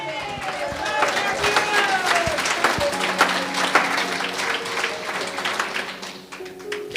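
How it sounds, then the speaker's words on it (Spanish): A congregation gives loud, sustained applause at a Quechua-language church service. Dense clapping fills the whole stretch while a tone and voices sound faintly underneath, and it eases off briefly toward the end. "Fuerte aplausos."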